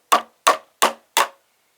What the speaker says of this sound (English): That'll give me some more power when I hit the nails. And I'll just hit the bottoms and give them to pop out on the other side.